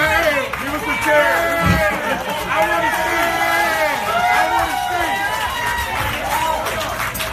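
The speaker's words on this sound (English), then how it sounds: "Give us a cheer" Wedding reception guests cheering at someone's wedding during the groom's toast, a sustained roar of whooping voices and crowd babble that stays loud and even from start to finish.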